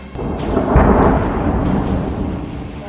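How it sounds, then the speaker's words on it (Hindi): A drone strikes a multi-storey building in Kyiv during a Russian night attack, setting off a loud explosion: a deep boom near the start that rolls into a sustained, thunder-like rumble. "अचानक बहुमंजिला इमारत से ड्रोन टकराता है, जोरदार धमाका होता है"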